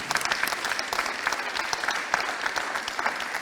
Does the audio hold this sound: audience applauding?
yes